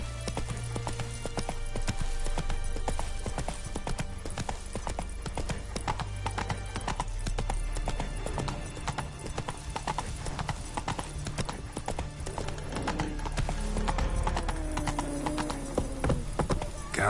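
Roach the horse gallops in The Witcher 3, hooves pounding in a fast, continuous clip-clop rhythm close up, with a short whinny near the end and no talk over it.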